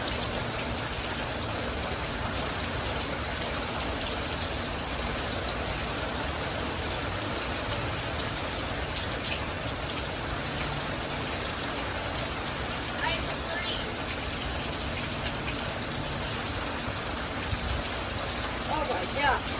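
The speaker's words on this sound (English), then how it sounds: "It's raining everywhere." Heavy rain falling outdoors during a storm, a dense, steady hiss of downpour with no gaps, loud and close throughout.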